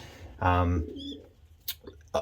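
A short, low coo from a mealy pigeon hen in a nest bowl rises close by, followed by quieter rustling and faint clicks in a still room.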